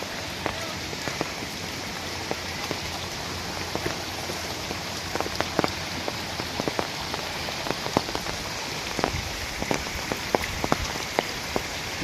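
Heavy monsoon rain pours steadily on the Karnala Fort hiking trail near Panvel, a dense continuous hiss with frequent close drop hits and no talking.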